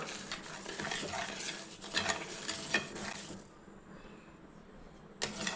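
Raw rice is dry roasted in a pan with continuous scraping and stirring: grains rattle and hiss against the metal, then a quieter pause and one more sharp scrape.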